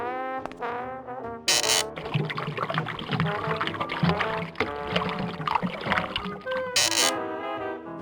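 Fake ocean water is poured into a diorama in the Grim Fandango video game, a gurgling, splashing liquid pour running for several seconds amid swelling orchestral game music with brief sharp accents at the start and end.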